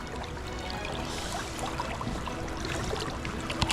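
River water flowing and splashing around wading feet, a continuous close burble with small trickles and occasional sharper splashes, moderately loud and without speech.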